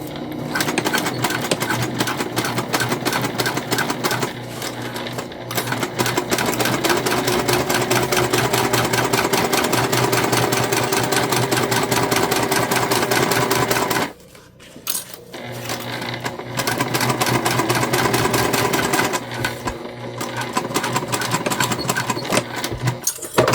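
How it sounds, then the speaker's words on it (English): Sewing machine stitching the side of a fabric bag, running in a fast steady mechanical rhythm, loud and close, with one brief pause near the end. "And now let's sew on this side."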